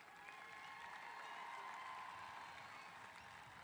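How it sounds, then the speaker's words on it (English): Sustained crowd applause at a high school graduation ceremony honoring graduates enlisting in the United States Marine Corps, an even wash of clapping from a large audience, fairly distant and faint. "Please give them all a round of applause."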